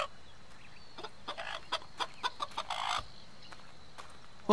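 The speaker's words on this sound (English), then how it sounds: "Oh, chickens!" Chickens in the video game Fable cluck in a quick series of short, fairly close bursts over a quiet background, with no talking.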